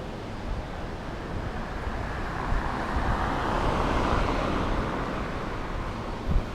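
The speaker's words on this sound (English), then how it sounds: "we're just waiting for a car to come past" A car drives past on a street, its broad road rumble swelling toward the middle and fading away, with some wind noise over it.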